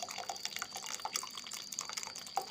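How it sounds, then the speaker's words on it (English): Cool drinking water is poured into cherry juice, giving a light, continuous trickle with small splashing drips at close range in a quiet kitchen. "So to this I am adding cool drinking water."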